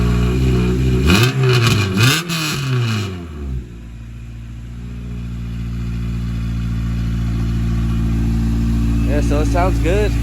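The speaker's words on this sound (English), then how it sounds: "Rev it up a little." A K20Z1-swapped Honda Civic Si revs in a few quick throttle blips that rise and fall, loud and close, then settles into a steady idle that slowly grows, with a brief voice at the end.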